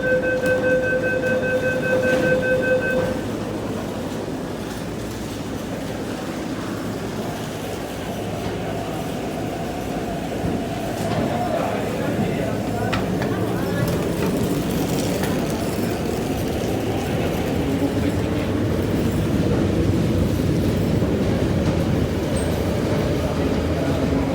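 MTR train rumbling into Fanling Station, with a steady, loud rolling roar and rail clatter building along the platform after a brief chime-like tone at the start, continuing for over twenty seconds.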